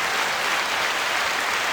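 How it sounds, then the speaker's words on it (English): Audience applause from a podcast studio crowd, arriving slightly late: steady, dense clapping that fills the whole moment at a loud, even level, with no voices over it. "Oh, wow. And then there's applause."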